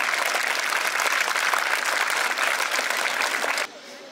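Steady, fairly loud applause from an audience at a school tribute ceremony for martyred soldiers, sustained clapping that cuts off abruptly near the end, leaving a quiet room.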